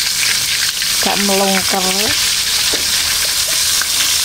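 Catfish coated in flour batter frying in hot oil gives a loud, steady sizzle that runs the whole time, with a brief stretch of speech over it.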